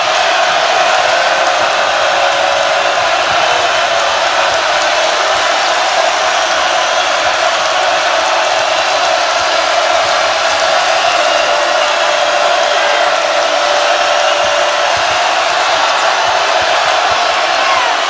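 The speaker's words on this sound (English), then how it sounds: "Listen to this crowd, Dino." A loud, dense college basketball arena crowd at Clemson roars and cheers continuously, a steady wall of noise with no pauses.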